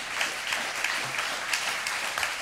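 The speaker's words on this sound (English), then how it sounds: "I know you just applauded" Sustained audience applause, a dense steady clatter of many hands clapping at a constant level throughout, with no voices over it.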